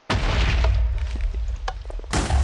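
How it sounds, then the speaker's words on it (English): A TNT cannon firing in Minecraft: a sudden loud explosive boom, a rumbling tail with crackles, then a second sharp blast right at the end. "I have a TNT cannon."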